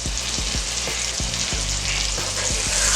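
Butter, garlic and smoked paprika sizzle steadily in a pan, a loud close hiss broken by soft clicks of a utensil stirring every fraction of a second.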